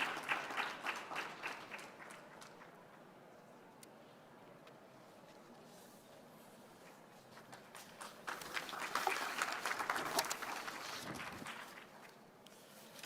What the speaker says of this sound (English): please give them a round of applause, please, as they come